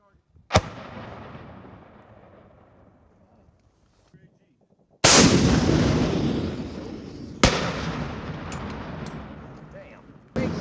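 An M3E1 MAAWS anti-armor recoilless rifle fires three loud, sharp blasts outdoors, each cracking sharply and rolling off into a long fading rumble. A faint, brief voice comes through the quiet before the first shot.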